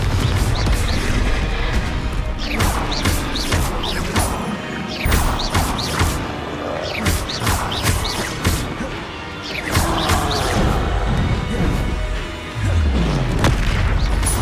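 Repeated Confringo spell explosions in the Hogwarts Legacy video game, loud booms and crashes in dense succession with whooshing bursts throughout.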